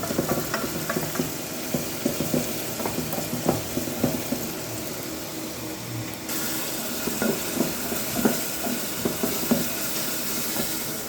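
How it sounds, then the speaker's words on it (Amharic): Tomato, onion and garlic fry in oil for a shiro dish, with a continuous close sizzle and repeated light stirring clicks and scrapes throughout; no talking. "ቲማቲም፣ ሽንኩርትና ነጭ ሽንኩርት እና ዘይት አድርጋችሁ መጥበስ ነው።"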